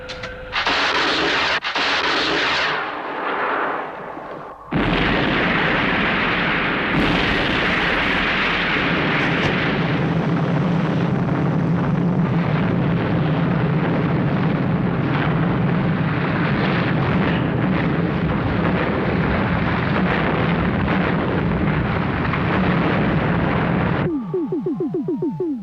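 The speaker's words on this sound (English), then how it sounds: "Fire missiles. Now!" Missiles launch and explode in a Thunderbirds puppet adventure, a loud sustained roar of rocket fire and blasts dominating almost the whole stretch before cutting off abruptly into near silence.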